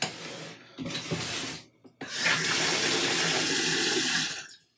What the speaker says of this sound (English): I'm gonna put some more water in this, and I'm gonna shake this up